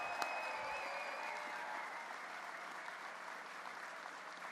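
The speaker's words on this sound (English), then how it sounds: "Let's give them a big round of applause." Audience applause at a Labor Day Laborfest rally, a steady wash of clapping from a large crowd that holds even and fairly loud for the whole stretch, with no voices over it.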